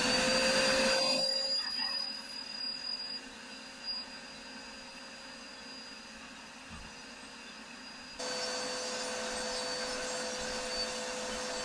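A vacuum cleaning a dryer vent whirs loudly, then drops to a lower suction hum before surging louder again near the end.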